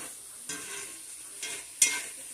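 Vegetables and peppers sautéing in a pan, a low continuous sizzle punctuated by three stirring scrapes, close and fairly quiet.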